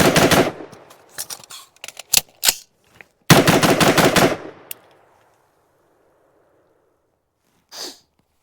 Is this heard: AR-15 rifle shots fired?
yes